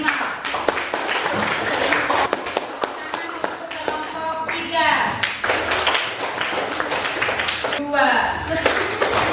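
Children in a classroom clap for their groups, scattered sharp claps and taps in bursts under a teacher's voice, with some chuckling.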